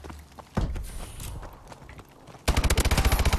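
Call of Duty Advanced Warfare gunfire: a few scattered shots, then a loud rapid automatic burst of evenly spaced rounds close by at the end.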